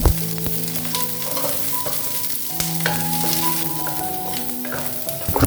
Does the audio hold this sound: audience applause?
no